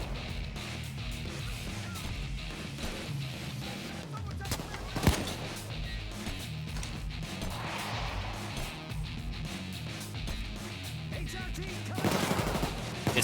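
Sustained gunfire from a police shootout in the video game Payday 2, dense rattling bursts running throughout with a few sharper cracks, under shouted talk and chaotic game noise.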